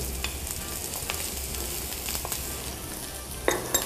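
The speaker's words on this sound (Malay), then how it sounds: "Kemudian anda masukkan hirisan bawang putih." Sliced onion and garlic frying in a SENZ electric multicooker, a steady close crackling sizzle running throughout with a few brief sharper clinks near the end.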